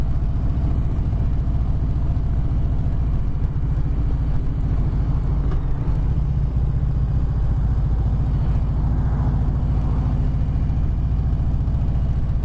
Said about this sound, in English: But this is what Harley Davidsons are about, that big V-twin throb.